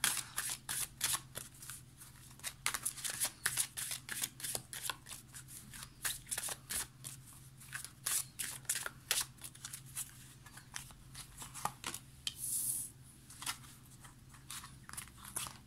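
Golden Lenormand cards being shuffled and drawn by hand, a quick run of crisp flicking riffles and soft slaps repeating steadily throughout, close and fairly quiet, with no talking.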